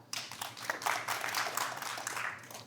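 Studio audience clapping to cast a vote, a brief burst of fairly steady, moderately loud applause that rises quickly and holds through to the end.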